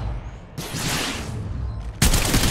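Bursts of gunfire from the Apex Legends Mobile video game, a loud sustained volley followed by a sharper, heavier barrage near the end, close and dense with no talking.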